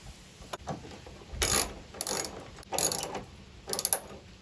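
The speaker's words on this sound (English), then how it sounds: "Reinsert the bolt and tighten up onto the tailgate." Socket ratchet clicking while tightening a bolt on a tailgate strut bracket of an LDV T60 ute, in several short bursts of rapid pawl clicks with brief pauses between them, close and fairly clear.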